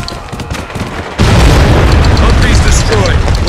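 Mortar fire in the war shooter Spec Ops: The Line: a heavy boom lands partway through, followed by a loud, sustained rumbling blast that fills the rest of the moment.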